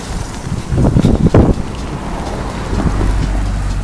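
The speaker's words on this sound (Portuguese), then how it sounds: "E muito vento" Strong wind gusts buffet the microphone outdoors, with a louder rushing burst early on, then a steady low roar that keeps going to the end, with no talking.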